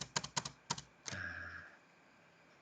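Several quick, close key presses on a computer keyboard enter shortcuts in Microsoft Word, a handful of crisp clicks in a short burst, followed by a faint lingering tone in an otherwise quiet room.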